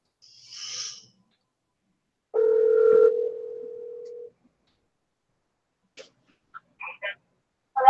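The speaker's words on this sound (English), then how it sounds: "I'm going to return the phone call on this person and see what they have to say" A steady telephone dial tone hums for about two seconds while a phone call is being returned, then cuts off before a few faint, brief clicks and beeps.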